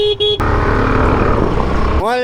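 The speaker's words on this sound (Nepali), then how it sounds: "हर्न बजाऊँ न" A car horn toots twice briefly at the start, then a long steady blast sounds over engine rumble, followed by a closing toot, close and loud, on a Saturday road trip to Kulekhani and Mohini Jharna in Nepal.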